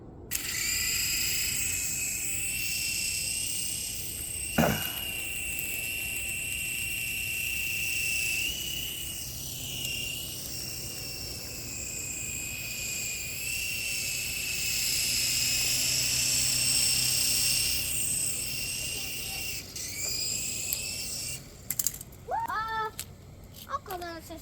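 A small Skyrover toy remote-control helicopter flies at night, its steady high-pitched rotor whine close and continuous, with a brief sharp click partway through and fluttering chirps near the end.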